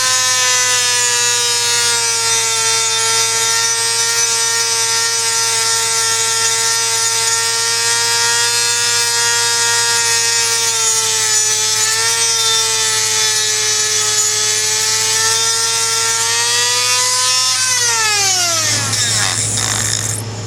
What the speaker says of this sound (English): we grind down the boss using a Dremel